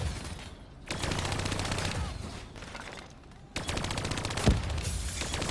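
Hijacked turrets unleash machine-gun fire in Call of Duty: Black Ops 3, with loud sustained bursts of rapid automatic shots that stop briefly midway and then resume, topped by one sharp, heavy impact near the end.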